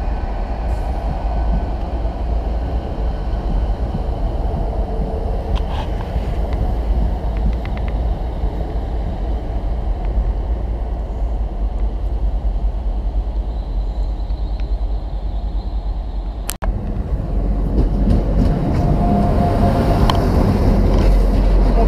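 Class 800 train at Cardiff Central station, a steady loud rumble and hum throughout with a brief dropout near the end, then a slightly brighter rolling noise.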